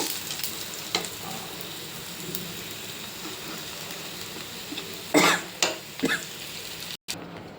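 Fish frying in oil gives a steady, moderately loud sizzle with a few sharper crackles and bursts near the end, then a brief cutoff; no one speaks.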